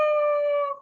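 A human voice mimics a pining dog whining under a back garden gate: one sustained, tonal, high whine held steady, then trailing off at the end, close and alone.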